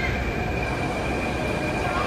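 A metro train rumbles steadily through a Delhi metro station, with a continuous roar of wheels on rails and a faint high squeal throughout.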